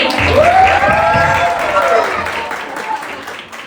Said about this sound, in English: Everyone clap for Team A.